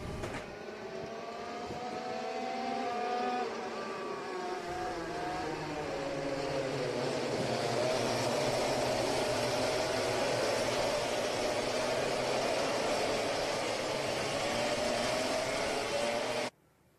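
Racing karts idling and revving on the starting grid at a national kart championship round at Fulbeck, a dense sustained engine drone with rising and falling pitch from several machines, ending abruptly.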